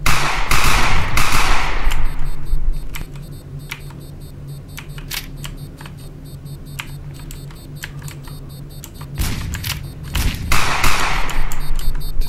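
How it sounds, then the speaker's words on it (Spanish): Pistol gunfire in the stealth video game Sneak Thief: a rapid series of sharp, loud cracks in uneven bursts over steady game ambience, with no talking. "Ahora hay una pistola. Vamos a disparar en la cabeza."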